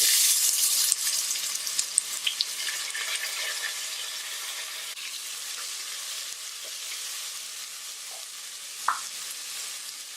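Chopped onions sautéing in a pan with asafoetida, cooking for Pongal kuzhambu, a steady close sizzle with a few faint stirring scrapes, no one talking.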